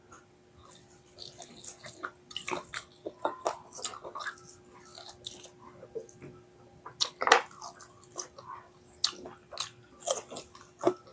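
Someone eats Mi Goreng noodles with crispy fried chicken up close, with irregular crunchy bites, slurps and chewing clicks over quiet background.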